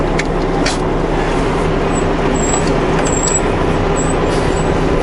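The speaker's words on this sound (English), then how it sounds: "Another truck on the other side." Steady, loud roar of a truck passing close by on the road near a parked vehicle, with continuous engine and tire noise and a faint high hiss like air brakes.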